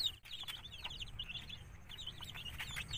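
Free-range baby chicks peep faintly and continuously near a homemade charcoal heater made from a can or tin sheet, their high chirps soft against a low background hum.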